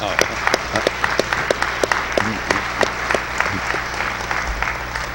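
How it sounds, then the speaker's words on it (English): A conference audience applauds presenters, a steady wash of many hands clapping with sharp individual claps standing out, continuous and fairly close for the whole stretch. "A big round of applause for you people who are here now"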